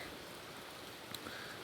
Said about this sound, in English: it's raining a lot.